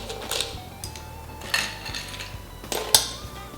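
Ice cubes clink and rattle into a cocktail glass while a Negroni is mixed, three sharp glassy knocks over faint kitchen handling noise.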